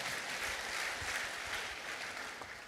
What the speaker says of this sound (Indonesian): Kita berikan tepuk tangan buat